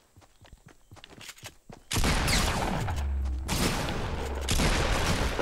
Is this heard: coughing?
no